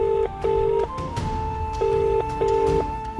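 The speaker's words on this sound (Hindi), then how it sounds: "ये फोन क्यों नहीं उठा रही है मैत्री?" An unanswered phone call in a Hindi TV drama: repeated short electronic ringing tones pulse in a regular on-off pattern, clear and close, with faint background sound between them.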